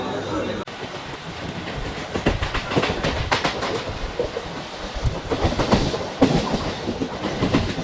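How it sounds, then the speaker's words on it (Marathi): A train rumbles close by as it arrives at Kelavli station, with rhythmic clickety-clack of wheels on rails, steady and fairly loud, with faint voices in the background. "तर आता येईल ट्रेन"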